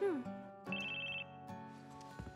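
A flip phone rings in Crisis Core Final Fantasy VII Reunion, a bright electronic ringtone with a sustained high tone amid game music, no talking.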